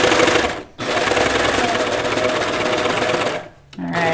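Machine stitching a knit T-shirt, a fast steady motor-driven buzz running close and loud, stopping briefly twice with short pauses before starting again.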